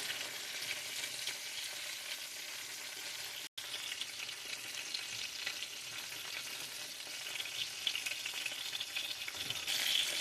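Chicken sizzles and crackles steadily in hot oil, a dense continuous frying hiss close by, briefly dropping out once.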